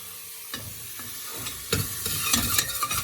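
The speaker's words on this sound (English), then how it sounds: "Just keep stirring it." Leek, cumin powder and turmeric are stirred in a pan for lentil soup, with a quiet sizzle under intermittent scraping strokes of a utensil that grow busier and louder toward the end; no talking.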